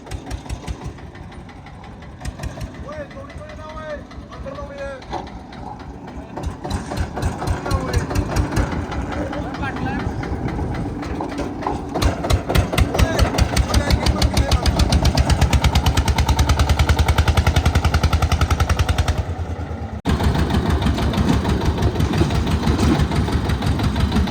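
A tractor engine running while stuck in a muddy farm field, a steady rapid diesel chug that grows louder and rougher midway, briefly dips, then carries on, close by with people talking over it.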